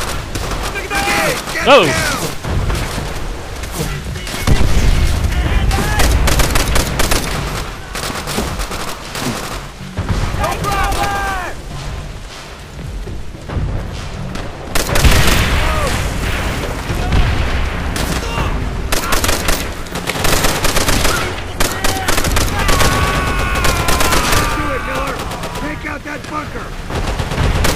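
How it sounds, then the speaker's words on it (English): Dense machine-gun bursts and rattling gunfire from the World War II shooter game Call of Duty: World at War, loud and nearly continuous with heavy booms, while a player shouts briefly over the din. "Firing at me now."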